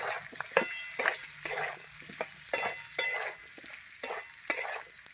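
Fried taro chunks and potatoes stirred in a pan with a spatula, giving a series of scraping, clattering strokes every half second or so over a soft, steady sizzle, close and moderately loud.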